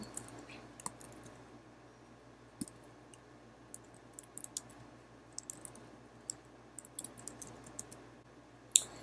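Quiet, sparse mouse clicks while working with the type tool in Photoshop on a computer, scattered irregular taps over faint room hum with no talking.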